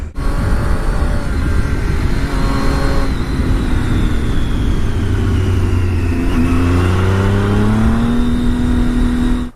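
Motorcycle ridden through hilly country, a loud, close engine hum with rising and falling pitch as the rider shifts and accelerates, sustained throughout.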